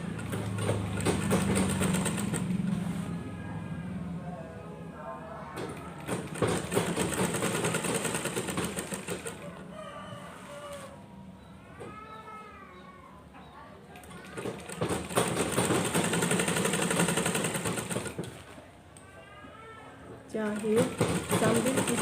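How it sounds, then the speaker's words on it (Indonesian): A sewing machine stitches front and back bodice pieces of a garment together in bursts of rapid mechanical whirring, stopping and starting, with talk and background children's noise between runs. "Terus kita jahit."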